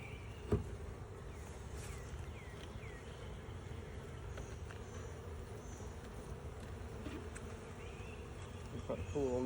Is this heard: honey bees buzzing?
yes